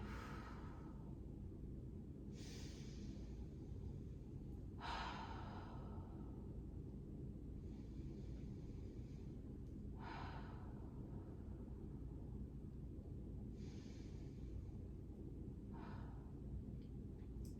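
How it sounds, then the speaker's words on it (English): Slow, audible breaths during a Pilates recovery and stretching session, each drawn in through the nose and released through the mouth, with several soft airy exhales spaced a few seconds apart over a low steady background rumble. "we're going to go in through our nose, out through our mouth"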